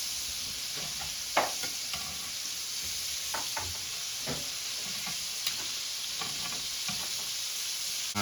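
Crab cakes searing in a hot pan give a steady, fairly quiet sizzle and hiss, broken by occasional light clicks and scrapes of a spatula or pan, with no talking.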